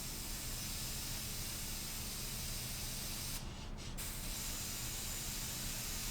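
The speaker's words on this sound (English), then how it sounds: "So now I'm just going to test the airbrush. 20 psi, as I say, is a good starting sort of figure." An airbrush set to 20 psi sprays paint in a steady, close hiss that runs throughout, with a brief break partway through.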